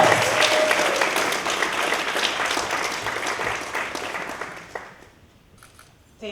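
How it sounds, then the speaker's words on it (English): An audience at an education celebration gives a loud, dense round of applause for a school board director, the clapping fading out over several seconds before a brief near silence. "Give her a round of applause."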